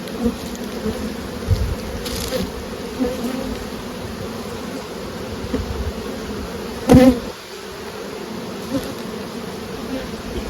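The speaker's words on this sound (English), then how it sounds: "You notice these bees bumping us, making all the racket, wanting to fight, wanting to fly." Honeybees from a small swarm buzz around hive frames with nurse bees, a close, continuous droning hum with occasional louder passes as individual bees fly near.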